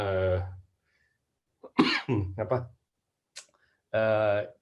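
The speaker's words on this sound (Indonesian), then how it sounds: "Sorry, agak batuk sedikit saya." A single man's cough breaks a pause in speech, with talking before and after it.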